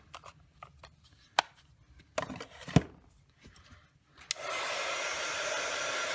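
Heat tool blowing a steady, close airflow to melt embossing powder on a Christmas card, switching on after a few seconds of light tapping and handling noises and then running alone.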